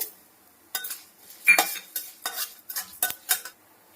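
Coriander, cumin, fenugreek and tamarind are roasted in a pan for curry leaf spice powder, with a spoon stirring and scraping in quick, uneven strokes over a faint sizzle, close and fairly quiet, with no talking.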